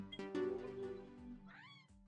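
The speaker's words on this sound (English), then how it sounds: "It's also an achievement for petting the cat." A pink cat in the Slime Rancher 2 video game meows twice while being petted, a short nearby mew followed by a higher, rising meow over soft game background music.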